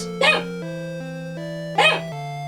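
A pet dog gives two short, sharp barks close by, spaced about a second and a half apart, over a steady background music drone.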